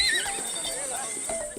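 Sacred Palawi horses ridden at a Sumba Pasola ritual give a clear whinny near the start, with hoofbeats and a steady high hiss of background noise under narration.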